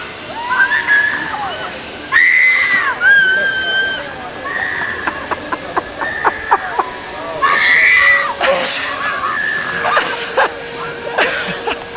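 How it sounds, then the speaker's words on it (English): A girl screams while riding a zipline at a fall retreat, with repeated high, wavering shrieks in bursts over several seconds, heard under nearby people talking outdoors. "Why is she screaming?"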